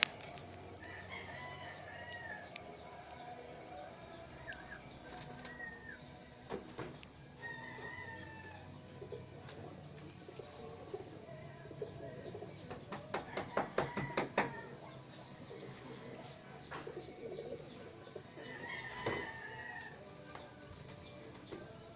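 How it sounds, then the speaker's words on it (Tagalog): Backyard chickens, with a hen clucking in short bursts and a rooster crowing now and then, plus scattered knocks, at moderate distance against quiet ambient noise. "Hen pala to, hen."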